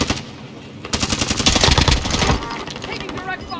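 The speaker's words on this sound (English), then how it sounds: "Taking direct fire." Rapid automatic gunfire in a multiplayer shooter game rattles in dense bursts, loudest in the middle and tapering off, while players talk over it.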